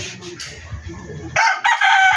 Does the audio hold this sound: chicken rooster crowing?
yes